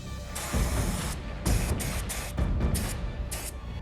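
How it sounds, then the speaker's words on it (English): Bursts of hissing spray onto a chocolate cup come in several pulses of varying length, close and fairly loud, with short pauses between them. "So I start to spray the cup."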